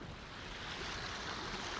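The River Severn near its source, a young stream fed by rivulets, gives a steady, broadband rush of flowing water, close and continuous with no talk.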